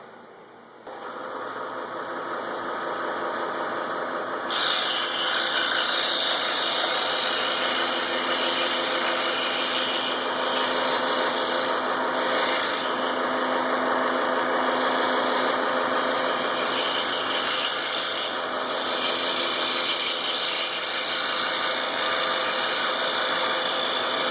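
A scroll saw cutting the legs for a prehistoric-creature wooden toy runs steadily and close, a continuous motor whir with a buzzing blade that grows louder a few seconds in and holds for the rest.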